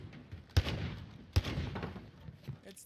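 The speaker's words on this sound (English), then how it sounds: "It's the juice cannon!" Two heavy, booming shots from a juice cannon weapon in a video game, about a second apart, each followed by a rumbling tail, with faint game noise between them.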